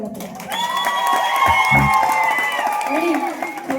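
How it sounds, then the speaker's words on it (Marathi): Applause and cheering rise from a crowd at a Shakti Tura performance event, a moderately loud wash of clapping and shouts that swells and holds, with voices calling out throughout. "जर सगळ्यांना आवडले असेल तर तुमच्या टाळ्यांचा प्रतिसाद आला पाहिजे."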